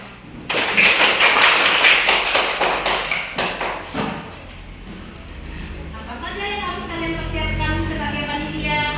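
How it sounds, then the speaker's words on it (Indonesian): A group claps together during an Indonesian classroom lesson, a dense burst of hand claps for about three seconds before fading under a voice and soft music. "Tepuk tangan untuk kita semua."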